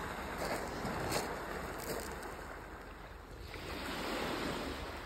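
Waves from the sea rolling onto an empty pebble-and-shell beach at Shepsi on the Black Sea coast, a steady, full wash of surf with soft swells and wind, no voices.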